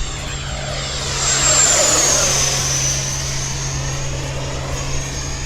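An FMS F-16 70mm electric ducted-fan RC jet flying low through a canyon: a continuous rushing whoosh that swells and pitches as it passes near, then fades back to a steady roar, with no talk.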